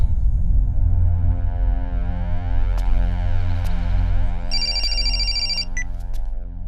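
A telephone rings with a short, bright electronic ringtone near the end, heard over a steady musical background with no talking.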